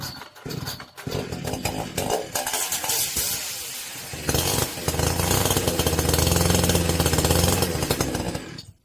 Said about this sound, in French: Avec la tronçonneuse.